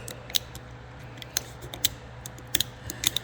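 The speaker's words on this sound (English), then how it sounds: "trying to remove some of this loose varnish. As you can see, it's just chipping away when I cut at it." Loose varnish is cut and scraped off a boat's wooden toerail, making a series of sharp, irregular close clicks and snaps over a faint steady hum.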